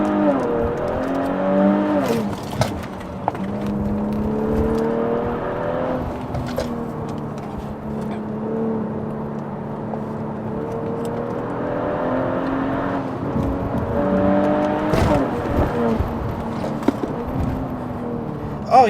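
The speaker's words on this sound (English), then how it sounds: "Like when you downshift, it'll go into a high RPM." A Kia Stinger GT's engine roars steadily with rising and falling revs through downshifts, heard from inside the car as a loud, continuous drone lasting the whole stretch with no talk over it.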